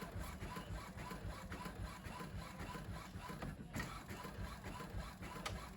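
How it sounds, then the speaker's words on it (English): A DTF transfer printer runs continuously, a steady mechanical whir and rattle of the print head moving back and forth, fairly quiet and unbroken. "It's printing now."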